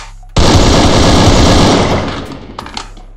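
Rapid sustained burst of AK rifle fire in the video game Free Fire, loud and dense for about two seconds, then fading into a few scattered sharp clicks and shots.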